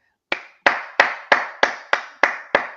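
A single person clapping hands in a steady, deliberate rhythm, eight crisp close claps evenly spaced over about two and a half seconds, alone with no talk.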